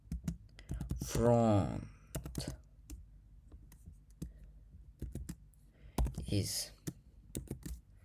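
Python code is typed on a computer keyboard while solving a Reeborg's World maze: rapid, close clicking keystrokes in short bursts, with someone speaking over and between them.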